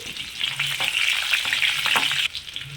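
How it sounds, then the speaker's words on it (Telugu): Tempering for tomato rasam sizzles and crackles in hot oil, with dried red chillies, garlic, urad dal, mustard seeds and cumin; a close, steady frying hiss runs throughout, then drops off abruptly near the end. "ఇదిగోండి తాలింపు పెట్టుకుంటున్నాం"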